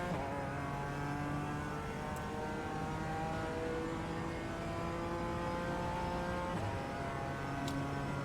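A GT4 race car engine drones at Imola in the iRacing simulator, a steady loud in-car engine note with fluctuating revs and gear changes, continuous throughout with a couple of brief clicks.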